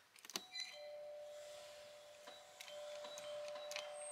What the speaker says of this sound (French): Et il y a même une sonnette, on va voir si elle marche.